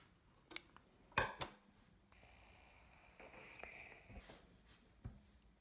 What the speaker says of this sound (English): I cut the thread